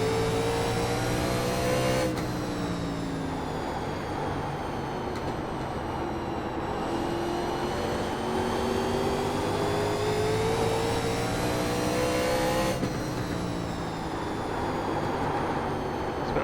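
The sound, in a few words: race car engine in iRacing NASCAR 1987 Legends video game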